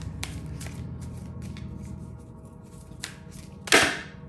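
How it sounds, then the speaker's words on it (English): Tarot cards being shuffled by hand, the deck's paper stock making them a little stiff to shuffle, giving a run of soft riffling clicks and taps that ends in one louder, close card-riffle burst. "cards are a little bit harder to shuffle because they have this"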